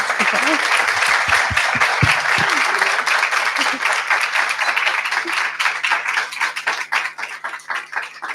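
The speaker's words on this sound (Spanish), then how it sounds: "os voy a pedir un tremendo aplauso para Andrea Santiago." Audience at a Spanish book presentation breaks into loud applause, a few sharp nearby claps and a short murmur of voices over a full round of clapping that gradually thins out.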